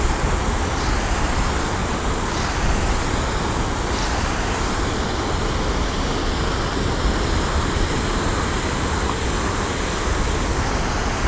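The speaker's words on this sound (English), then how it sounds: "I just accidentally found an awesome waterfall" An awesome waterfall found while trout fishing at sunset gives off a steady, loud rushing roar of falling water that stays even throughout, with no voices.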